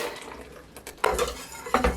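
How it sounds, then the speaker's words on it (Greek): Egg custard mixture goes into a saucepan and gets stirred for traditional galaktoboureko, with soft liquid sloshing and a few sharp clinks of a utensil against the pan, close up. "θα ρίξουμε πάλι το μείγμα μέσα στην κατσαρόλα"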